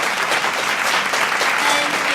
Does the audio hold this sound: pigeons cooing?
no